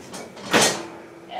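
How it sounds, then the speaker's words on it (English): An oven door is opened in a home kitchen while eggplant cooks, a single short scraping creak of moderate loudness over a quiet background. "Let's open the door."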